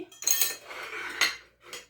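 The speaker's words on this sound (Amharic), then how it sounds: "ጀበናዋ ወደ ግራ ሆነችብኝና እሷን እየቀየርኩ ቦታ ካቀማመጧ" A jebena, the Ethiopian clay coffee pot, is shifted into place, giving a few soft clinks and scrapes in quick bursts, close and quiet, with no talk.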